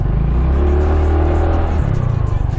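An FKM LTS 125 motorcycle engine accelerates hard on its first pull, a loud, steady low drone that holds close throughout with a slight wavering toward the end.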